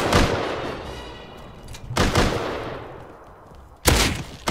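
Gunfire in the survival game Rust: three loud, sharp gunshot blasts spaced a couple of seconds apart, each followed by a long decaying echo tail.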